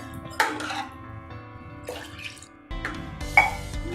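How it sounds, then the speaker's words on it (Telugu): Water being poured into a pot of buttermilk curry (majjiga pulusu) gives short splashing, trickling bursts close up, separated by quieter pauses over a faint steady background hum. "ఇంకొక కాస్త నీళ్ళు పోసాను."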